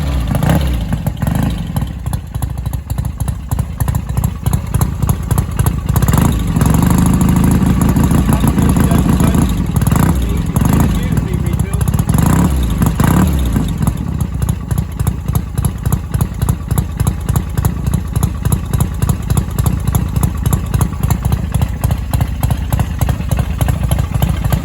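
A BSA A50 motorcycle fitted with an A65 engine runs steadily and close, a continuous loud clattering idle with a few throttle blips rising and falling along the way, no talk over it.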